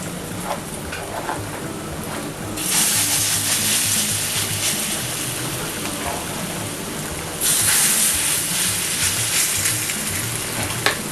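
Plantain pancake batter fries gently on low heat in a pan, giving a soft steady sizzle that swells louder twice as more batter hits the hot surface.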